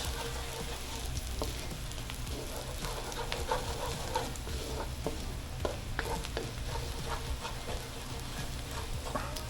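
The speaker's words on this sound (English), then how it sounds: "We don't want to burn. We just wait saute a bit." Fried rice ingredients sautéing in a pan, a soft steady sizzle with scattered clicks and scrapes of stirring, fairly quiet and continuous without talk.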